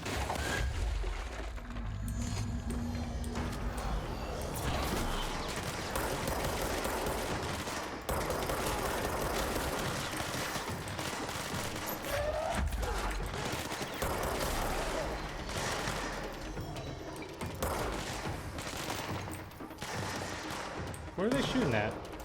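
Dense bursts of gunfire in the video game Control, rapid overlapping shots and crackling impacts filling the whole stretch at close, loud level, with game speech and effects mixed underneath.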